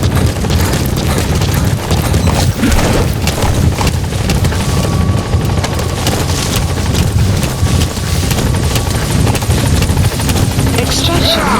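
A support helicopter arriving in a video game gives a loud, constant rotor drone mixed with heavy rumble and background game sounds, sustained throughout.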